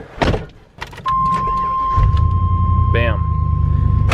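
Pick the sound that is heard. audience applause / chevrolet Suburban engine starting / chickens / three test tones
chevrolet Suburban engine starting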